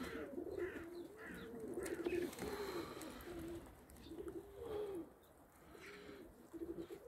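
Racing pigeons coo in a loft in a continuous, layered murmur of soft, rolling calls. The sound is faint and fairly close, with a few chirps mixed in and no speech.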